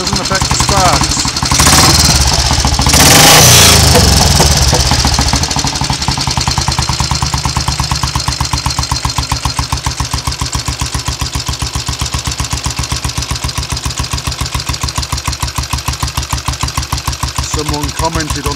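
Royal Enfield 350 cafe racer with a Lucas SR1 magneto being kicked over: a loud burst as it fires, then a steady, close thumping single-cylinder idle with a regular knocking pulse.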